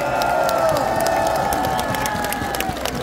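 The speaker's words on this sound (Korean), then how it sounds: "여러분, 다시 한번 큰 박수 한번 보내주시기 바랍니다." A dense outdoor crowd cheers and claps at a presidential campaign rally at Bucheon Station, a loud continuous roar of applause, shouts and whistles that holds steady throughout.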